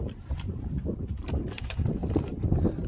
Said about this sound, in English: The wind is still gusting ridiculously